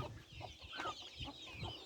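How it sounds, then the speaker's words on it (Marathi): Desi native chickens on a poultry farm cluck steadily in a close, continuous flock chatter, with overlapping calls and no one talking. "प्युअर देशी कोंबड्या आहेत सगळ्या"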